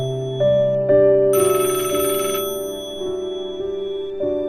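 A telephone rings in a shop office after closing time, with a loud, steady ringtone of repeated electronic tones that carries for several seconds with no voices.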